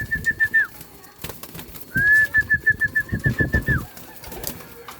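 Pigeons in a flyers loft at feeding time: soft cooing and scuffling close by, with two rising whistled tones and a few sharp knocks or wing flaps among the birds.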